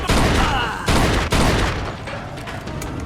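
Gunfire during a shootout in the Mafia 2 video game: loud, dense bursts of rapid shots in three heavy volleys, then a fading, rumbling tail.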